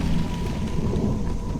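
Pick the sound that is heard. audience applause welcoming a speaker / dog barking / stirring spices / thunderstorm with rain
thunderstorm with rain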